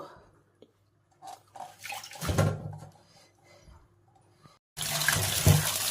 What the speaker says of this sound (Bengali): পালং শাকটা আমি ধুয়ে নেব